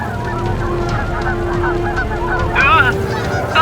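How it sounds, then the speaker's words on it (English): A cartoon flock of geese honks steadily and loudly throughout, with a denser burst of overlapping honks near the end over a continuous low hum. "A flock of birds are in front of you."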